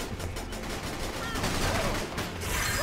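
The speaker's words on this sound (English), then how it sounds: "Now that's what I call a firefight." A busy firefight in the game Battalion Wars, with dense overlapping gunfire and rapid bursts over constant battle noise, loud and continuous.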